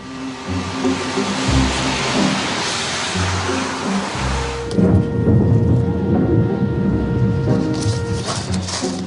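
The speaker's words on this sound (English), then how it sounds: "Thunder and lightning." A thunderstorm rumbles, a heavy, sustained roar of thunder and rain that swells partway through, with steady tonal hum beneath and no talk.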